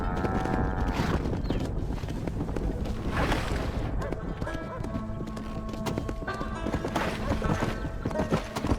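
Steady clip-clop of horse hooves in the video game Red Dead Redemption, a continuous trotting rhythm with occasional whinnies over faint wind and ambient noise.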